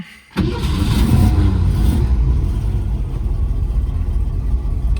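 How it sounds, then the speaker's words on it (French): A 1965 Ford Mustang Fastback cranks and fires at once, then settles into a loud, steady, rumbling idle heard up close with no talking. "on va bien sûr démarrer cette magnifique voiture comme toujours"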